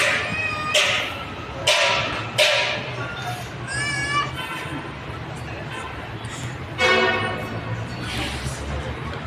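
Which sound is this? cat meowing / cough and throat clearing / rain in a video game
cat meowing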